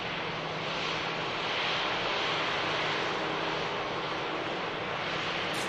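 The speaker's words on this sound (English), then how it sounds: "EasyJet on the taxi out" An EasyJet airliner taxis out at Manchester Airport, its engines giving a steady, loud, broadband roar with a low hum beneath, unchanging throughout with no voices.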